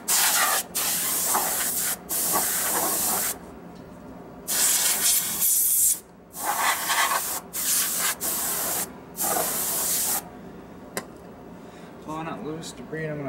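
Aerosol spray paint hisses onto truck wheels in repeated bursts of one to three seconds, separated by short pauses, close and loud with faint rattling and handling noises between passes.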